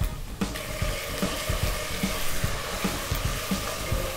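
Green chillies and curry leaves frying in hot oil for jeera rice, a steady loud sizzle with rhythmic spatula scrapes and stirring knocks against the pan.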